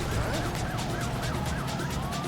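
A police car siren wails in rapid up-and-down sweeps in the street racing game Midnight Club: Street Racing, layered over a continuous roar of car engines and road noise.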